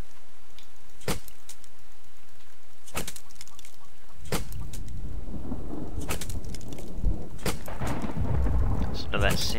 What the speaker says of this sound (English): Listen to that sound of refreshing rain.